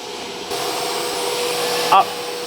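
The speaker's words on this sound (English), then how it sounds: "this vacuum pump should rotate as the arrow shows." A vacuum pump on a CNC nesting router hums steadily in a loud, continuous mechanical whir that starts abruptly and is joined by a short high beep near the end.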